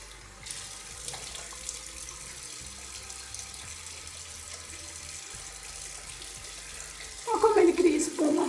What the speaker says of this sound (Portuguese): Agora, gente, eu vou enxaguar o rosto.